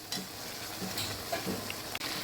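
Meat being sautéed with spices in a pan as a kosha curry is stirred, a steady soft sizzle with occasional scraping stirs and light utensil clinks, close and without talk.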